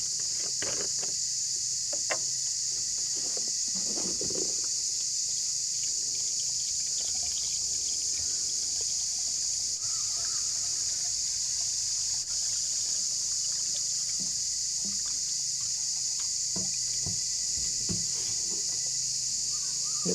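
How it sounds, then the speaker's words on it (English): Water trickles and pours into the radiator of a cheap 6x6 army truck outdoors, a faint steady dribble under a constant high insect-like hiss with a few scattered knocks. "nice to put some more water in the radiator"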